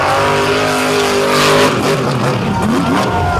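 A monster truck tears over beach ramps and obstacles at a show, its engine roaring loud and close, revving and surging across the whole burst.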